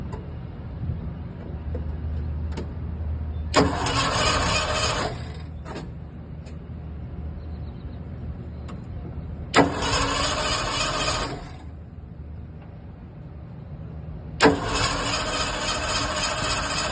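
Carbureted Ford F100 pickup engine being started, with three separate loud, harsh cranking bursts of a few seconds each over a steady low rumble, with quiet pauses between attempts.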